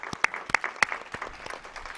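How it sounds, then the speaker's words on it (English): A few scattered hand claps at a charity fundraising finale, several sharp individual claps in the first second then thinning to sparse, softer taps, fairly close and moderately loud. "I think that deserves a hand clap"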